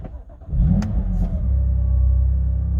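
A BMW M2 fires up after its Starline immobiliser is disarmed: a few faint clicks, then the engine catches with a loud surge and settles into a steady, close rumbling idle.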